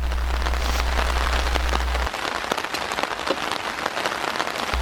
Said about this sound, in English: It rains all night